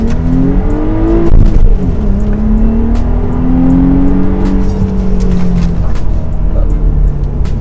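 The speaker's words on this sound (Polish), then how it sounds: "Tak właśnie czwóreczka przyspiesza, naprawdę fajnie robi to wrażenie, wciska nawet fotel" An Audi S4 B5 accelerates hard, its engine note climbing steadily and loudly for several seconds with a smooth, continuous rise in pitch, heard close up as from inside the car.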